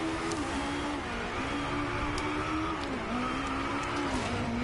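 A car engine from the Driveclub racing game drones steadily, its pitch wavering and dipping as the car drifts around a corner, with faint tire noise and no talking.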